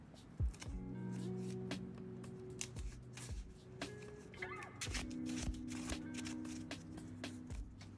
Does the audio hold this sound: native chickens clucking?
no